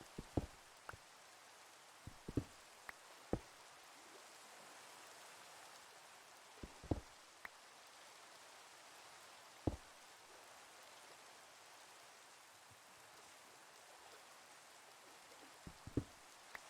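Steady rain falls in the Minecraft video game as a soft, constant hiss, with scattered sharp drop-like ticks throughout, quiet and without talk.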